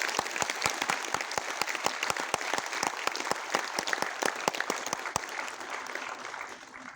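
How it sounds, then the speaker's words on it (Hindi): Loud, sustained audience applause at a Bengali Foundation Day cultural program, a thick wash of clapping with a few sharp individual claps standing out, gradually tapering near the end. "उसके लिए जोरदार तालियां बजाएं"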